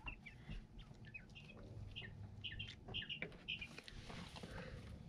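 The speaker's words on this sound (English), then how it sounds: "That is lonely bird chirp." Quail roosters giving short, repeated high chirps in a noisy coop, the calls scattered through the clip over a steady low rumble.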